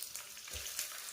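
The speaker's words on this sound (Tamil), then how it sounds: "அதுக்கப்புறமா பூண்டு, அப்புறமா பாக்கி இருக்கிற வெங்காயத்தை எடுத்து அதில் போடுறோம்." Garlic and onion frying in oil for a fish curry give a steady, soft sizzle with a brief low thump midway, close and continuous with no talk.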